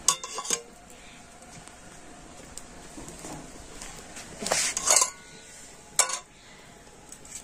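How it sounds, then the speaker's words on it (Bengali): A metal kadai pan holding boiled milk is lifted off a stove, giving a few sharp metallic clinks and scrapes with quieter shuffling between them, close and with no talking. "আর এখন আমি এই কড়াটা নামিয়ে নিচ্ছি।"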